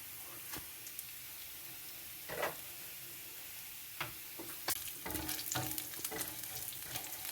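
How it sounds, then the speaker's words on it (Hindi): Ginger and garlic sautéing in a pan for chicken malai kebab, with a soft, steady sizzle and scattered clicks and scrapes of stirring, close and quiet, with no talking. "अदरक लहसुन ज़रा सोते होना शुरू हो गया है।"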